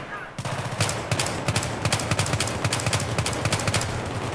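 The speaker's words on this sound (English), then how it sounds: "You got some corridor shooting again." Gunfire in a corridor in Battlefield 3, rapid automatic bursts cracking loud and close in a steady rhythm that echoes off the walls, with talk mixed underneath.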